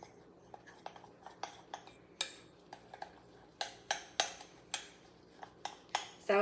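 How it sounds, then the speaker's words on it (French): Spoon stirring protein powder into about 100 ml of milk for a pudding, a series of quick sharp clinks against the cup, close and irregular, with no voices. "Je mets environ 100 ml de lait et j'y vais avec la moitié d'abord. Je brasse."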